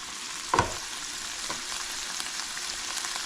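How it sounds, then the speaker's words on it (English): Meat browning in leftover grease in a pan for unstuffed peppers, a faint steady frying hiss throughout with one brief louder scrape or stir near the start. "Okay, so we have the meat browned up."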